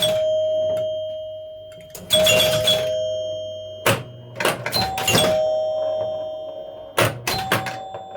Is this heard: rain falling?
no